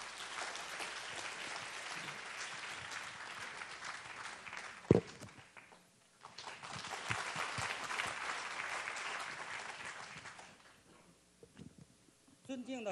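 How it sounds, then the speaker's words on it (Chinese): Audience applause at a film premiere press conference welcoming an elderly guest, sustained dense clapping from a crowd that pauses briefly then swells again, with a sharp thump in the middle and voices mixed in. "我们掌声欢迎谢辉老先生"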